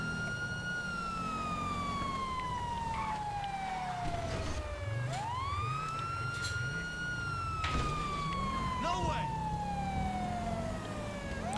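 A police car siren wails in a GTA roleplay game, loud and close, sweeping slowly down and up in long cycles over a rumbling engine, with a faster warble mixed in midway.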